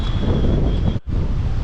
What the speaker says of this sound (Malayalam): ഭയങ്കര കാറ്റുമാണേ